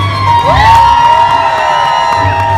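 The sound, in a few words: audience screaming and cheering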